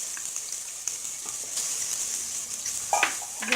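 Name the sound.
spices frying and being stirred in a pan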